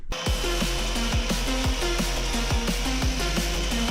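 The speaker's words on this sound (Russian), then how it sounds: "Чтобы качественно убрать все жучки и трещины, предлагаю использовать вот такой вот лепестковый круг, соточку." An angle grinder fitted with a 125 mm flap disc grinds corrosion and cracks from a car body down to bare metal, a loud continuous whine with rhythmic dips and swells as the disc is pushed and swept across the panel.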